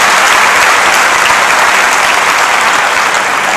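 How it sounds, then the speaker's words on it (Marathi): A large audience claps loudly at a Marathi lecture, a dense, sustained roar of applause that stays at full strength from start to finish with no talk over it. "म्हणून जोरात टाळ्या वाजल्या पाहिजे"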